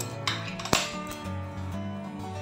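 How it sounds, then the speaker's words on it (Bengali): Metal wok set back down on a stove, a few close clanks and knocks of metal on metal in the first second, then quieter low hum and faint rattle, no talk. "কড়াটা আবার চাপিয়ে দেব"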